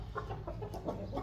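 A broody hen on a rooftop gives a run of low, throaty clucks in short, uneven bursts, close by and moderately loud, with no talk.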